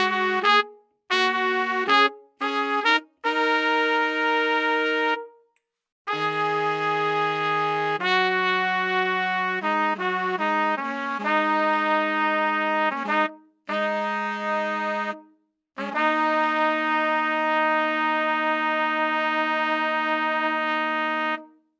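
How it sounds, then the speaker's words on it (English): Broadway Lites sampled brass and reed section plays legato chords, with trumpets, trombones and tenor sax sliding smoothly between sustained harmonies in a series of loud, bright phrases separated by brief pauses, with no voices. "So I can have the tenor sax playing legato transitions is the same time as the trombones and the trumpets."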